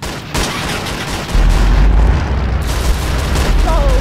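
Bursts of gunfire from a cop shooting wildly in the Roblox video game, a loud booming low rumble with sharp shots, fairly close and continuous over the clip.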